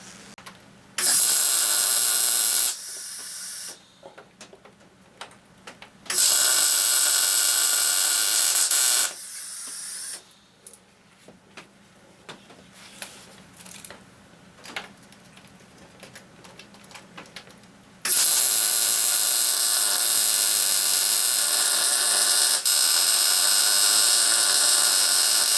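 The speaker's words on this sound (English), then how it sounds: "Now we're going to sneak around from the other side and weld the back." A split wishbone bracket is welded from the back, long steady buzzing arc hisses in three bursts with crackly quieter gaps of handling noise between them.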